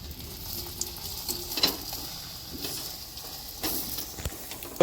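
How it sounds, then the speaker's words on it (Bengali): Mughlai paratha frying in oil in a pan, a soft continuous sizzle close by with occasional faint stirring and handling sounds. "এটা বেশি তেলেও ভাজা যায়"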